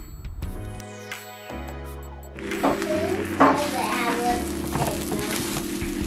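Beaten eggs sizzle and crackle in a hot pan with green onions and a whole wheat tortilla, a steady frying hiss under background music.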